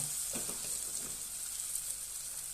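Potatoes and leafy greens fry in a pan with a steady, soft sizzling hiss and a few faint stirring taps near the start, quiet and unbroken with no talking.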